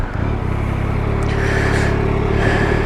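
A motorbike pulling away in gear, its engine giving a steady, loud, close rumbling drone that rises slightly in pitch as it moves off, with no talking.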